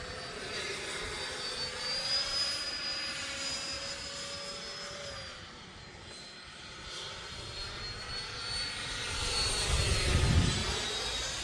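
A Freewing F-15 Eagle 90mm RC jet flies overhead with a steady, high-pitched turbine-like whine. Its pitch sweeps as it passes, and it swells louder toward the end. No voices are heard.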